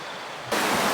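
Broadband rushing water of a river flowing beside a rainforest campsite, steady and close in the second half after a quieter, thinner hiss; no voices.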